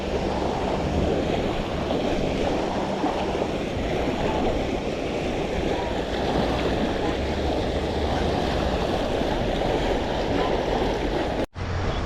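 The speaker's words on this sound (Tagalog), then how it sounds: "Malakas ang agos." Strong sea current and surging waves rush continuously at the shore, a loud, dense wash of water mixed with wind buffeting the microphone, cutting off abruptly near the end.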